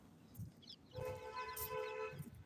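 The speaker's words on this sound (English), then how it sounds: "There's a car honking its horn." A car horn sounds in a quiet street setting, a sustained tonal honk lasting about a second and a half at moderate distance, following some faint footsteps and background rustle.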